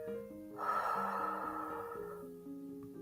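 A single slow, deep breath during a loving-kindness meditation, audible as a soft, airy rush lasting over a second, heard near and gently over quiet sustained background music.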